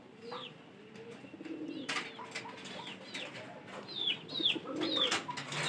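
Pet pigeons coo repeatedly at close range, with soft rising and falling calls scattered over a low background, a few sharper chirps and a brief flutter.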